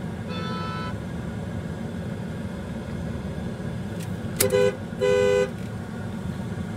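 Steady road traffic rumble fills the scene while car horns honk twice near the end, one short toot and then a longer, louder blast, heard alone without voices.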